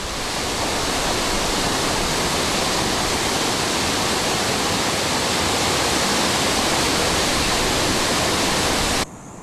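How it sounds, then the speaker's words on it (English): Wangi Falls in the wet season roars as a steady, loud, unbroken wash of falling water, close and constant, cutting off abruptly at the very end. "with this roaring avalanche of water, swimming is understandably closed for the duration of the wet"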